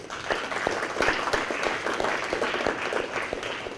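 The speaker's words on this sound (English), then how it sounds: "Can we give a round of applause for that answer?" A small audience claps steadily for several seconds, a moderate patter of individual hands at an event with a speaker, fairly close and without talk over it.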